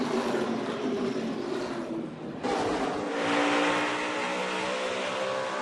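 NASCAR stock cars roar through a corner at the 2012 Subway Fresh Fit 500, with a loud, continuous engine drone and a sharp shift in pitch as cars sweep past close by.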